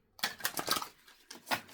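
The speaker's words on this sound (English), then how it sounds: "So I'm going to pull another card and let's shuffle." Quiet riffling bursts of playing cards being shuffled, two or three quick flurries with a short pause between them.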